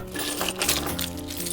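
A bunch of keys handed over, giving a short close metallic jingling and clinking with tonal music playing underneath, no voices.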